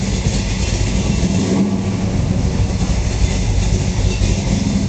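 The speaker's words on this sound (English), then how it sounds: "Let you hear her running." A 1970 Ford Torino Cobra Jet's original 429 V8 runs steadily at idle through dual exhaust, a loud, continuous low rumble close by with no talk over it.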